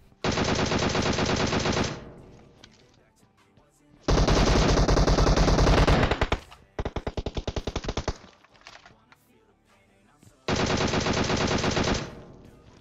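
Several loud automatic bursts of gunfire from PUBG Mobile rattle close by, separated by quieter gaps with scattered single shots. There is no talk.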